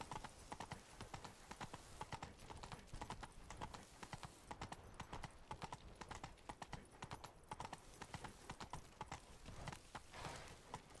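A galloping horse in The Witcher 3 video game pounds out rapid, rhythmic hoof clip-clops that run nonstop and stay fairly close throughout.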